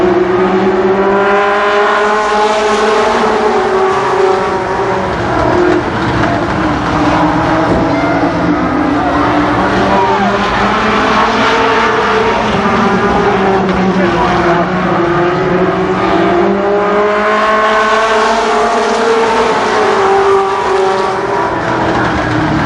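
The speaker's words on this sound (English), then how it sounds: "this is the first late model heat race" Late model race cars in a heat race at Columbus Motor Speedway in 1991, a loud, sustained engine roar that swells and fades in long waves as the pack circles the track.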